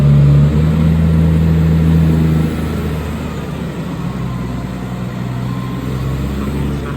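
A loud tractor engine rumbles steadily nearby, with a deep droning hum that eases slightly in intensity partway through, no one speaking.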